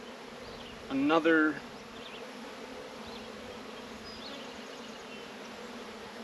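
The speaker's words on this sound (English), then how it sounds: "I have a bee on my face and a bee on my neck" Honeybees from a swarmy nuc hum around a beekeeper splitting it into hives, a steady faint buzz with one brief louder swell close by, as a voice speaks briefly.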